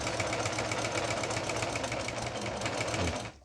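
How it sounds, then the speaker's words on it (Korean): A repaired cast-iron Singer Monami domestic sewing machine (a Japanese-market model) runs a zigzag stitch with a fast, steady mechanical chatter close by, then winds down and stops at the very end. "지그재그 바느질이 되죠."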